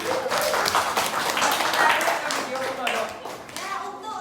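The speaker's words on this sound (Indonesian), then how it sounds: "Kita berikan tepuk tangan untuk Rafat dulu" A group applauds Rafat with dense, close clapping that fades toward the end, while voices talk over it.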